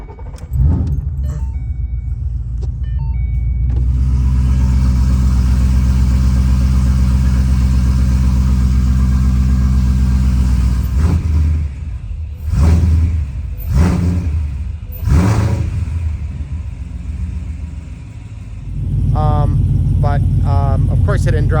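A Ford Boss engine fitted with Track Key cams runs at a loud, close, steady idle, with a few quick revs near the end; keys jangle briefly at the start.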